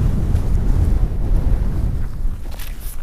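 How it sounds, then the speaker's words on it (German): Strong wind on a mountain top buffets the microphone in a steady, loud, low roar that carries on throughout with no voices. "Und ich genieße noch so ein bisschen den Wind hier oben, weil es gerade so angenehm ist."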